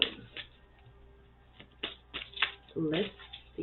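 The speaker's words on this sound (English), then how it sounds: "Gonna get a quick shuffle." Tarot cards are shuffled in short papery bursts and flicks, spread irregularly across a few seconds, with a brief voice near the end.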